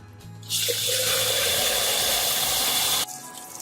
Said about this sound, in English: I'll just fill this up with a little bit of water